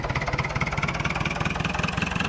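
A tractor engine idles in the video game Farming Simulator 2011, a steady rhythmic low chug with regular rapid pulses, close and alone without talk.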